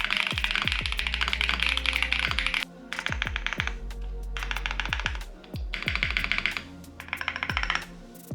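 Mechanical keyboard keys typed on a bare wooden desk in quick bursts of clacky strokes with short pauses between, close and clear.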